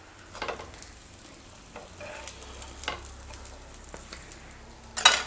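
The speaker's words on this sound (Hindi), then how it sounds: "तो लॉलीपॉप को हम सेकने के लिए रख देंगे और गैस का फ्लेम हम स्लो करेंगे।" Veg lollipops shallow frying in a little oil in a pan over a low gas flame, a quiet steady sizzle with faint crackles and a brief clatter near the end.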